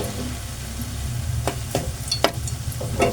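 Seasoning frying in a hot pan while making sautéed shrimp paste, a soft steady sizzle with a few light stirring scrapes and clicks, close and fairly quiet.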